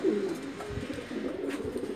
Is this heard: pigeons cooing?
yes